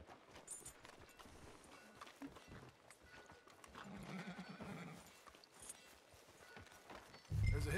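Horse hooves clip-clop at a steady walking pace in Red Dead Redemption 2, moderately close under a busy game soundscape with no one talking, ending in a sudden louder low thump.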